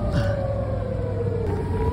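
A steady air raid siren wail in Haifa drifting slowly in pitch, heard at a distance over a constant low rumble.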